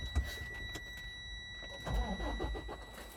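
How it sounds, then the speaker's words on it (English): A truck's engine is started from inside the cab during a CDL in-cab test; a brief starter crank gives way to a low engine rumble that catches about two seconds in, close and fairly quiet, with no talking. "So we can start the truck."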